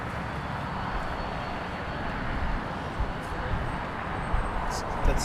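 Steady broadband roar of aircraft engines at LAX, loud and continuous, with a few brief bumps near the end; faint voices sit underneath.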